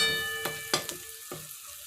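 A masala with chopped coriander is stirred and fried in a pan; a soft sizzle sits under three or four distinct spatula scrapes over a couple of seconds, close and quiet.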